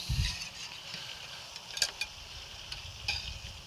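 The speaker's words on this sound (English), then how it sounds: "let's just stir our injection mix up a little bit" A spoon stirs a butter and spice injection mix for a deep-fried turkey, making soft scraping and light clinks against the container over a steady background hiss, close and fairly quiet.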